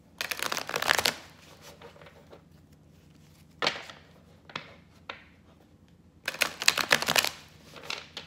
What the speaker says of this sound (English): I'll shuffle and pull four cards from each deck